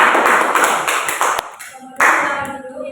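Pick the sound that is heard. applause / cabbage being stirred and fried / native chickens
applause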